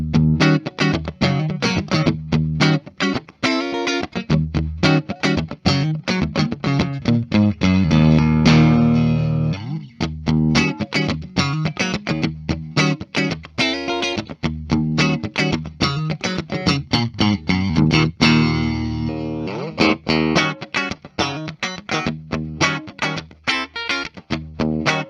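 A 1979 Gibson electric guitar with coil-split humbuckers, played through a Blues Breaker overdrive pedal, rings out in loud strummed chords and picked phrases with steady rhythmic attacks and no talking.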